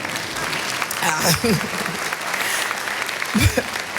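A commencement ceremony crowd claps in a brief, modest round of applause that runs steadily throughout, while a speaker's voice carries on over it through the public address system.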